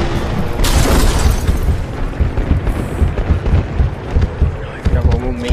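Gunfire and explosions in Battlefield: Bad Company 2 make a dense, loud stretch of deep booms and thuds throughout, with a voice talking over the game.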